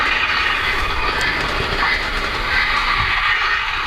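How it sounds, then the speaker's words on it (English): Model railroad freight train rolling steadily along its track, a continuous close rumble with light clickety-clack and faint wheel hiss, loud and alone with no talk. "pushing with the freight train and pulling the ELF work train. There we go, onto the crossover bridge."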